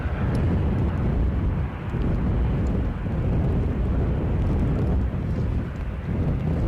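An ATR turboprop taxis at Edinburgh airport in stormy crosswind conditions, its steady droning engine roar blending with heavy wind noise buffeting the microphone throughout.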